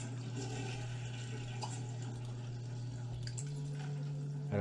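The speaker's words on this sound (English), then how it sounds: "That toilet broke." A broken toilet in The Sims 3 sprays water in a steady, faint hiss over a constant low electronic hum. It runs unbroken for the whole stretch, with no talking.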